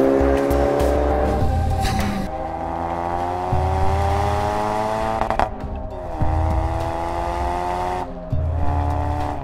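A Ford Focus RS driven hard on a road in North Yorkshire, its engine revving up and down through repeated gear changes, loud and close throughout with no talking.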